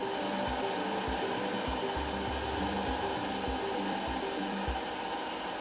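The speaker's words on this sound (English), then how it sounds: "they'll come here and sit down and use these sanding machines to smoothen the sculptures" Sanding machines smooth hand-carved wooden sculptures in a busy workshop, giving a loud, steady whirring hiss with regular low thumps roughly every half second throughout.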